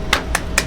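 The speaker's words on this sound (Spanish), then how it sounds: "Un fuerte aplauso para él, por favor." Three sparse hand claps, spaced unevenly over a moment, greet a doctor introduced as a guest at an interview; faint and thin, set against a low background hum rather than full applause.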